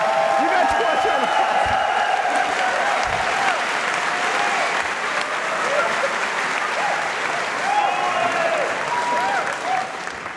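A live conference audience at a talk show claps loudly, with cheers and whoops rising over the sustained applause and a few voices calling out throughout.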